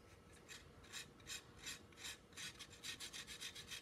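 Rhythmic rasping strokes of a plaster cast being shaved smooth, roughly a dozen close, steady scrapes in a row with no talking.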